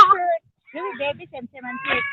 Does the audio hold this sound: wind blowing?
no